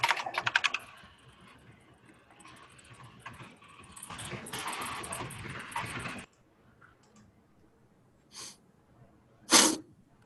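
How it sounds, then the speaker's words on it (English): Rapid clacking on a rainbow-lit mechanical keyboard, a dense burst of keystrokes for several seconds, then a pause and two isolated louder clacks near the end; no talking. "you're all getting to hear my awesome mechanical keyboard"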